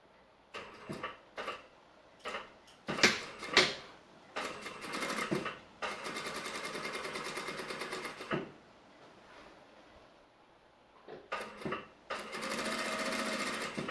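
A sewing machine topstitches wide pants in short stuttering bursts, then longer steady runs of rapid needle clatter, separated by brief pauses, close and clear with no talking.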